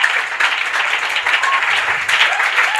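A church congregation claps and applauds steadily throughout, a dense, continuous wash of hands with faint cheering voices mixed in.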